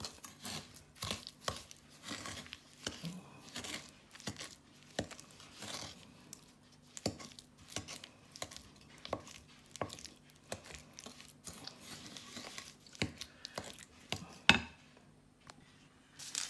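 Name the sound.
rubbing sugar mixture by hand until white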